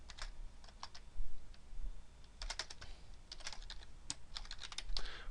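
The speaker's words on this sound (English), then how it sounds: "I'm going to click here and type up here" Keys clatter on a computer keyboard in irregular quick bursts of taps, close and fairly quiet over a low background hum, with no talking.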